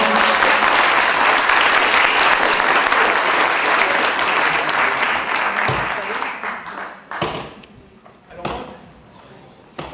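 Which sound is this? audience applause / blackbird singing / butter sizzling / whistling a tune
audience applause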